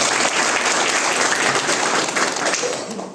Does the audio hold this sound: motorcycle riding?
no